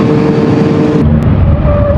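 A motorcycle on an Ohio road in Perry County revs loudly up close during a near crash, its engine roaring and then shifting pitch sharply partway through, with wind rush around it.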